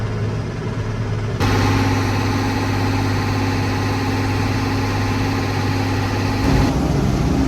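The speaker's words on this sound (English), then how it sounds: "I gotta go, another tractor's coming in now" A tractor engine runs at a corn chopping job, a steady low idling drone that steps up louder after a moment and then holds a constant, close rumble with no talk.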